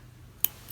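A single quick snip of scissors trimming the tail of embroidery floss, short, close and quiet against a near-silent background.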